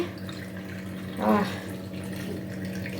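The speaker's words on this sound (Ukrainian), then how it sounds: "І заливаю, заливаю водичкою." Water is poured into a jar of cucumbers being set up for pickling. A short gurgling splash rises midway through, heard close against a steady low background hum, with no talking.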